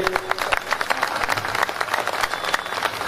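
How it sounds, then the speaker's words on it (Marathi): Ceremony audience breaks into steady applause, dense overlapping claps filling the space at moderate loudness throughout, with no clear talk over it. "जोरदार टाळ्या झाल्या पाहिजे."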